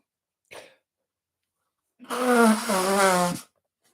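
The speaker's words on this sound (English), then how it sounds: "I'm just going to blow my nose" A short faint sniff, then after a pause a loud, wet, honking nose blow lasting over a second, close to the microphone.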